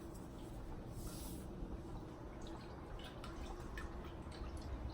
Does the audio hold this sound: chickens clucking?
no